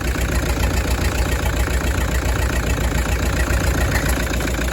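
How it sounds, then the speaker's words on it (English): A diesel engine with a cracked piston runs steadily at idle, a loud, close, continuous rough rumble with a knocking character that persists throughout. "That is a cracked piston, that's how it runs."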